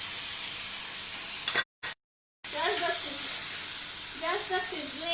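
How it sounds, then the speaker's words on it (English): Chopped tomato and onions sizzle steadily in a hot frying pan, a dense crackling hiss that cuts out briefly, then resumes under faint talking. "Just the sizzling sound of this tomato,"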